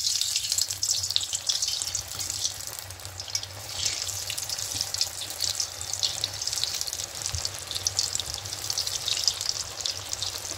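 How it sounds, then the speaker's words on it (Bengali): Sweet potato and moong dal pithas fry in hot oil in a wok, giving a steady, close crackling sizzle with bubbly pops that run evenly throughout without speech. "এবার পিঠেগুলো একে একে দিয়ে দেবো।"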